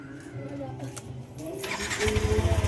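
A Yamaha Nmax 155 scooter engine, which had been misfiring and failing to start, cranks and catches near the end, settling into a steady pulsing idle after some background voices and handling noise.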